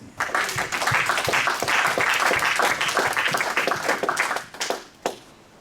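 A church congregation applauding during a sermon, a dense sustained round of many hands clapping that holds steady for several seconds before thinning to a few last claps.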